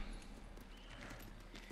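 Horse hooves in the samurai video game Ghost of Tsushima, a steady clip-clop of a galloping horse that runs the whole short stretch at moderate level, close by, with no talk over it.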